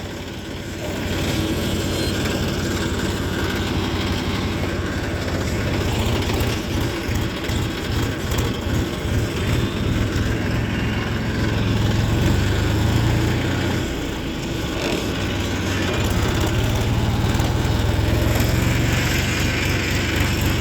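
A tractor hauling a loaded sugarcane trolley runs with a loud, steady engine drone and a low throbbing rumble that holds for the whole stretch, with no one speaking.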